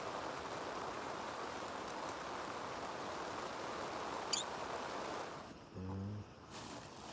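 Steady rain falls at night on an old farm field, a dense even hiss running continuously, then cutting out abruptly toward the end.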